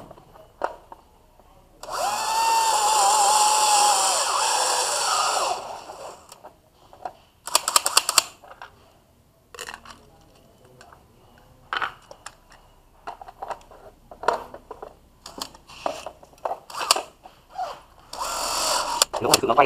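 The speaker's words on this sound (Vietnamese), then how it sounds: "Cháu khoan cho nó đẹp." A power drill bores into a wall while an Ezviz C6N camera is being installed, one sustained loud whirring run followed by scattered clanks and handling noises, with people talking.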